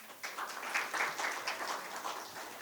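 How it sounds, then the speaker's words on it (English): Conference audience applauding after an ambassador's address on the Chagos Islands, a fairly soft, steady patter of many hands clapping that holds for a few seconds. "May we please give her a round of applause?"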